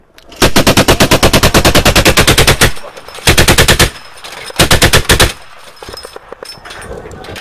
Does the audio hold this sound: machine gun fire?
yes